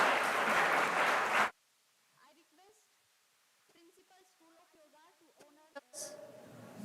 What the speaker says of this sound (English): Give a big round of applause to